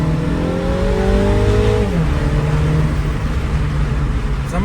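A Mini Cooper S 60 Years Edition with a modified dump valve revs hard from inside the cabin, rising quickly through the gears, then dropping back to a steady drone before another rise.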